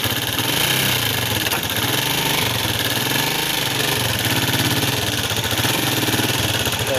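Rusi TC125 motorcycle engine idling steadily after a clutch cable adjustment, a continuous close rumble with even rapid pulses and no pauses throughout.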